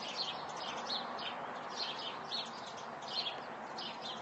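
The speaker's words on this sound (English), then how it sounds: "Yeah, some sparrows." Sparrows chirp repeatedly in short, bright bursts over a steady outdoor hiss, fairly distant and soft.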